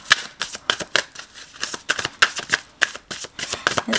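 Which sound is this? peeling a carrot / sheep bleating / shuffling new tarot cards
shuffling new tarot cards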